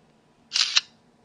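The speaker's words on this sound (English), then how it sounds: "Use the camera shutter button." A digital camera's shutter fires once, a short close double click after a brief pause, in a quiet room.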